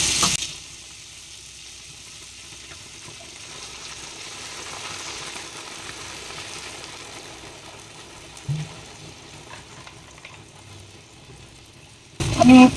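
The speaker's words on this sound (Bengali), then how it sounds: "এবার আমি জল দিয়ে দেবো।" Spiced mixed vegetables for the Bengali dish shukto sizzle in a pan as water goes in, a steady, moderately loud frying hiss that goes on throughout, with a few brief knocks.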